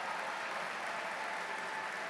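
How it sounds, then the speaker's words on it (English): Graduating medical class being cheered at a university Match Day ceremony, a steady wash of crowd applause and cheering heard from a distance, fairly faint and continuous with no speech. "Give them a big cheer"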